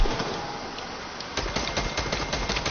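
Rapid gunfire in a video game: dense, loud bursts of shots that continue in quick, rattling succession with no talking.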